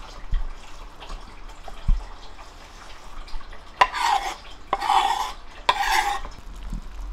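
Kimchi and onion are stirred into pancake batter in a bowl, with three bursts of wet, squelching mixing and occasional knocks and clinks of the utensil against the bowl amid quieter pauses.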